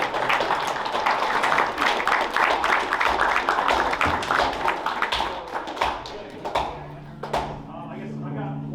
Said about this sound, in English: Yeah, applaud there too.